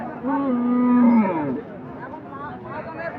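A Friesian bull moos once in a long, loud, drawn-out call at a busy cattle market, followed by quieter crowd murmur and distant chatter.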